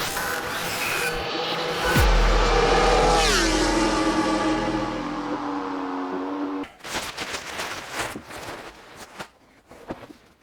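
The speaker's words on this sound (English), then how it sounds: "let's get the bike out and start it up, and who doesn't like a bit of aprilia sound" An Aprilia RSV4 1100 Factory motorcycle cold-starts in a garage: a sharp crank and catch, then a loud high idle that settles lower before sharp throttle blips ring out near the end.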